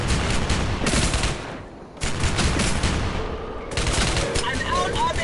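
Suppressing gunfire in Rogue Trooper Redux: loud, sustained automatic bursts hammer away in long strings, broken by short pauses, with voices calling out over the shooting.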